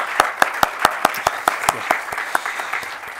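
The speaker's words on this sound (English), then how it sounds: "I'd like to maybe do a special round of applause for Mr. Yakis" A modest round of clapping from a small audience honouring Mr. Yakis, former Turkish foreign minister, with sharp, fairly regular individual claps standing out near the front, gradually softening.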